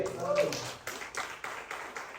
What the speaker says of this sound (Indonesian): Yang setuju berikan tepuk tangan bagi dia.